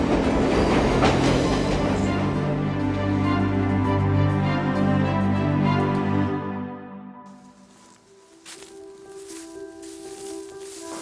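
A train runs on rails with a steady, loud rumble that eases off and fades into quieter, lighter rattling near the end.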